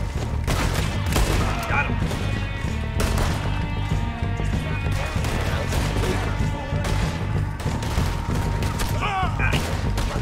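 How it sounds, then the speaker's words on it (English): Rapid gunfire from a Red Dead Redemption 2 shootout, dense bursts of shots and impacts filling the whole stretch at close range, with someone speaking briefly over the noise. "See how fast the rapid fire was."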